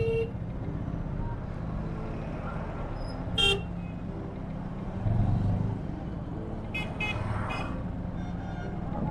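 Road traffic at Odlabari in India hums along steadily, and car horns blare in short bursts, one loud toot about a third of the way in and a cluster of honks near the end.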